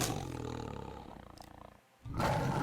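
A big cat in the Minecraft video game gives a loud, close, drawn-out rumbling roar that fades to near silence, then a second roar bursts in.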